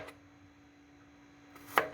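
A knife comes down once on a cutting board while chopping garlic, giving a sharp single chop near the end of a quiet stretch with a faint steady hum underneath.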